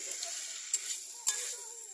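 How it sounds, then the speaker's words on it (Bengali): Ground cumin stirring and sizzling in a frying pan while cooking a cauliflower curry, a soft steady hiss with two brief scraping clicks of a spoon, quiet and close. "জিরে গুঁড়ো দিয়ে দিল, জিরের গুঁড়ো নেড়ে নিচ্ছে"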